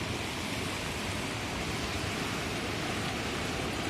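A river swollen and flooded after heavy night rain rushes in a steady, loud, broad roar of flowing water with no break.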